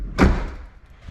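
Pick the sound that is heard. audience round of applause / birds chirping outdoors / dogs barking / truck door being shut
truck door being shut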